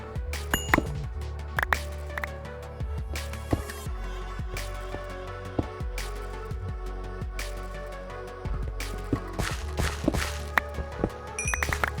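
Minecraft iron ore being mined in the FTB Infinity Evolved modpack with a hammer, a busy run of repeated thunks, clinks and block-breaking hits at an irregular fast pace, close and fairly loud, without talking.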